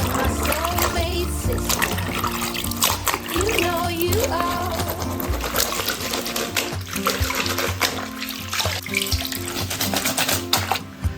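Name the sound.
water pouring while rinsing beef tripe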